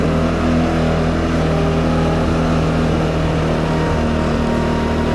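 Off-road vehicle engine, freshly serviced with a new belt, droning loud and steady as it drives, a constant close rumble with no talk.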